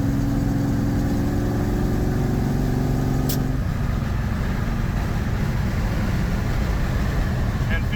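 A V8 engine in a beater 4-speed classic car holds a steady hum, then opens up under throttle into a louder, rougher roar that continues to the end. It sounds close and continuous, with no voices.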